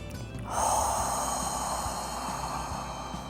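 One deep, close breath starts quietly, then a long airy exhale swells and slowly fades, heard alone.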